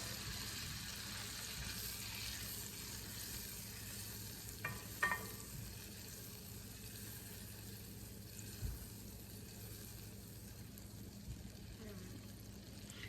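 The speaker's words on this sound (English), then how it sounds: "Ooh, sizzle, sizzle." Ingredients melting in a skillet for a chocolate chip cookie, a faint steady sizzle with a couple of sharp utensil clinks near the middle, quiet and close, with talking over it.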